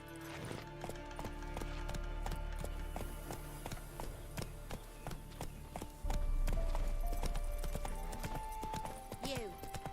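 A horse gallops in The Witcher 3 video game, rapid rhythmic clip-clop hoofbeats running steadily over a low rumble, joined by a louder drone midway and faint game effects, with no talk in the clip.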